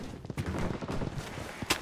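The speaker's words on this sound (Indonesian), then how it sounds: "Ada suara tembak-tembak, kayaknya di atas kita banget guys ya." Muffled bursts of gunfire in the video game Blood Strike crackle repeatedly in rapid, uneven volleys, sounding somewhat distant over a dense background rumble.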